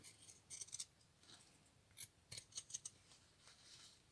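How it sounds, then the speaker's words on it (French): Pinking shears snipping through fabric right at the seam of a homemade face mask, faint, close crisp clips in two short clusters against a quiet room. "je viens couper ici au plus près de la couture avec le ciseau cranteur"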